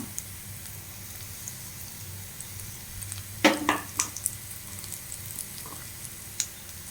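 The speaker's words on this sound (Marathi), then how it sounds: "आतां हांव धाडोवन दवरलेलें लसूण आनी 3 मिरसांगी हांव घालता" Garlic and three chilies dropped into hot oil in a pan, a soft steady sizzle with a brief burst of crackling and stirring scrapes, close and quiet.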